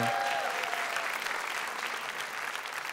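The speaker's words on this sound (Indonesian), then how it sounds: "Boleh minta tepuk tangan dong buat UPN." Audience applause fills a stand-up comedy show at UPN, a dense, steady wash of many hands clapping that runs loud and unbroken from start to finish, with a faint voice at the very beginning.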